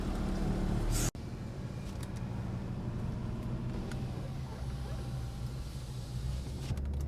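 A Mercedes E55 with added boost drives along on a hot day, its engine a steady low drone with road noise, loud and close throughout after a brief sharp break near the start.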